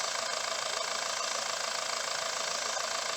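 The Mitsubishi 4.9-liter turbo diesel under the cab of a 2001 Fuso FE145 flatbed truck idles with a steady, rapid clatter and a faint turbo whine. It runs on at a constant level with no talk.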